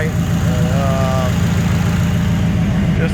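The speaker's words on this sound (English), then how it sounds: "But yeah, I think I got it idling right." A Chevrolet S10 running a Holley EFI Sniper fuel injection system idles steadily, its low engine rumble constant and close throughout, with a brief higher tonal whine early on and a faint voice near the end.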